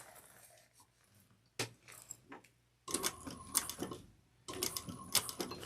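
A sewing machine top stitches a slouch bag in two short whirring runs, close and fairly loud, after a quiet stretch of light handling sounds.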